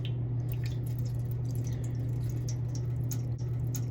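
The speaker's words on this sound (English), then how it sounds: "Slowly pull the line out and water's gonna come out." Water trickles and drips steadily from a Bosch dishwasher drain line, pulled loose during an E-24 error repair, under a constant low electrical hum, close and fairly quiet throughout.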